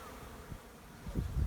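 Honeybees buzz around an uncapping tank and extraction tools left out on a front porch after a spring honey harvest, a low steady hum that swells louder toward the end as bees fly close.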